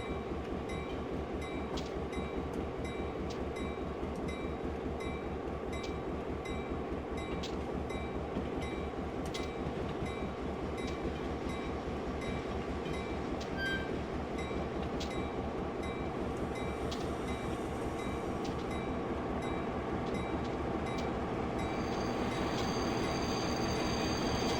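A long freight train being pushed from behind on a mountain rail route in a simulator, a constant low engine rumble with light wheel clicks and brief high squeals, steady and unbroken, with a faint hiss entering near the end.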